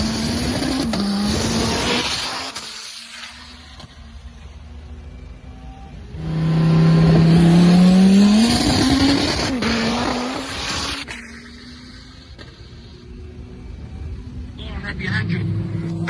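A 1000hp twin-turbo Dodge Viper with a 9L stroker and sequential gearbox roars through a racing run, loud engine surging and swelling mid-pass with a rising whine, while voices talk over and after it.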